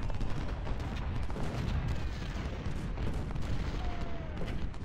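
Musket volleys and artillery fire in the Civil War strategy game Ultimate General: Civil War, at the Battle of Hardin Pike. The dense, steady crackle of distant rifle fire runs throughout, with scattered heavier booms.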